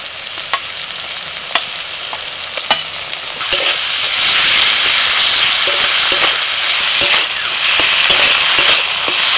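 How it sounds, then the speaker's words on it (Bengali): Onion sizzles loudly in hot oil as chopped tomato, ginger, garlic, cumin and green chilli paste go into the pan, with scraping stirs and a sharp frying hiss that swells about midway. "পেঁয়াজ অর্ধেক ভাজা হয়ে গেছে। এবার আমি টমেটো কুচি দিয়ে দিচ্ছি, আদা বাটা, রসুন বাটা, জিরে বাটা আর কাঁচা লঙ্কা বাটা একসাথে দিয়ে দিচ্ছি।"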